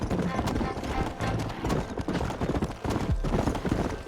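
Horse hooves gallop in steady clip-clop rhythm through a Red Dead Redemption ride, loud and continuous, with game sounds and a voice over it.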